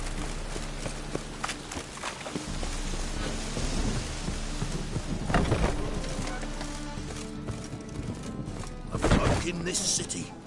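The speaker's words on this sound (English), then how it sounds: "A storm, damn it." Thunderstorm in the video game Witcher 3: steady rain hiss with low rolling thunder rumbles and a couple of louder cracks, continuous throughout with faint footstep-like taps beneath.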